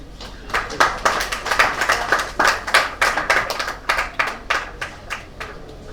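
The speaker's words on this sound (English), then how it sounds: "Joseph Jumoke, let's clap for them." A small group at a tech training closing event claps in scattered, uneven bursts for several seconds, close and fairly loud, with a faint murmur of voices underneath.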